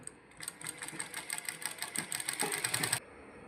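A sewing machine runs a seam of stitching along cloth for a kachhera, a traditional Punjabi undergarment, giving a fast, steady mechanical chatter for about two and a half seconds with no voices.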